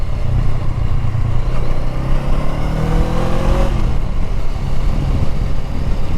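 A 2020 Honda Rebel 500 ABS motorcycle accelerating hard toward top speed, loud engine roar rising in pitch through the gears over heavy wind rush, close and continuous.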